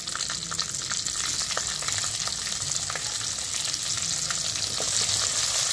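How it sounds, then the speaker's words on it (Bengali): Chopped onions hit hot oil with whole cumin and a bay leaf for a capsicum chicken dish, giving a steady bright sizzle with light stirring clicks throughout, close and alone. "এরপর একে একে দিয়ে দেওয়া হবে কেটে রাখা পেঁয়াজগুলো"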